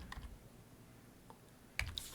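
Someone typing on a computer keyboard into a Windows 11 start menu: a few faint, scattered key taps, then a brief louder cluster of clicks near the end, in a quiet room.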